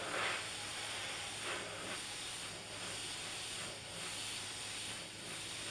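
An airbrush sprays dark black paint onto the back of a model rocket nozzle, giving a steady close hiss with gentle pulses as the trigger is eased, with no talking.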